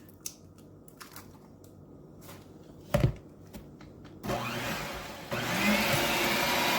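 An electric mixer beats an egg into creamed sugar for snickerdoodle cookie dough; after a few scattered knocks and a brief loud clatter, the motor starts and whirs steadily, stepping up louder near the end, with no talk.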